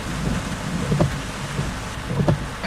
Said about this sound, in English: There was, I think you can still hear it, thunder.